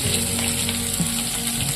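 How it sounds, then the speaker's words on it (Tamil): Steady sizzling of onions sautéing in hot oil, a continuous crackling hiss with no voices. "பெரிய வெங்காயத்தை நல்லா எண்ணெயில் வதக்கிக்கிடுவோம்"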